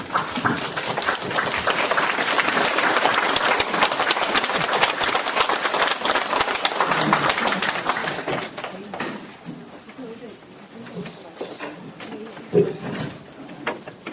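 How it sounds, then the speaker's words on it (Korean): A lecture audience gives a professor a loud, dense round of applause on his arrival, strong for about eight seconds before thinning into scattered claps and room noise. "큰 박수로 환영 인사를 해주시기 바랍니다"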